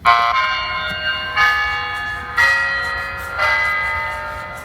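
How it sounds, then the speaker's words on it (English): Four electronic bell-like chime tones from a CareTech ZeitGeist device, part of a Westminster chime, in a descending-and-rising sequence, evenly spaced about a second apart, clear and close with ringing decay. "Like part of a Westminster chime."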